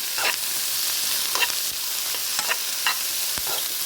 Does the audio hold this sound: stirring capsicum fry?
yes